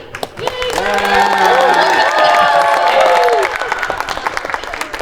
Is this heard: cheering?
yes